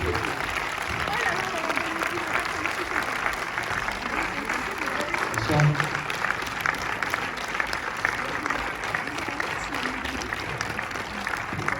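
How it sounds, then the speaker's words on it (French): A crowd applauds a film director and his actors at a screening meet-and-greet for the film Le Lion, with sustained, dense clapping filling the room and a few voices faintly underneath. "je pense que ça mérite davantage d'applaudissements."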